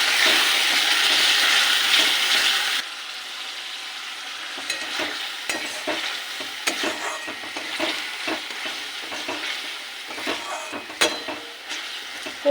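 Ginger and garlic frying as tomato and chili sauce go in for chili chicken: a loud sizzle that drops suddenly, then quieter crackling with clattering stirring and scraping strokes.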